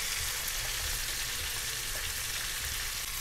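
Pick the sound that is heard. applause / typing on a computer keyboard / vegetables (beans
vegetables (beans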